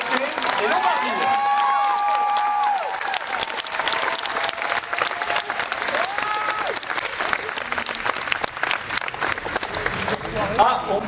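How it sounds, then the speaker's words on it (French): An audience applauding the Lombardies on a talk show, a dense, continuous roar of clapping with cheers and a voice mixed in. "Bah on peut les applaudir."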